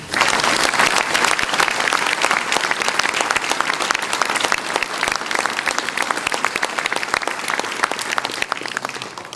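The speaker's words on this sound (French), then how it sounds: "je vous demande de faire une ovation à Claudia et Jürgen" Sustained audience ovation for Claudia and Jürgen at a town mayor's New Year wishes ceremony in Trélazé, dense steady clapping from a large indoor crowd lasting throughout at even loudness.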